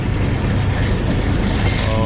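Rumbling of the Jaffar Express passing through Nuttal railway station in Balochistan without stopping, a steady loud roar of wheels and carriages heard from on board, continuous throughout.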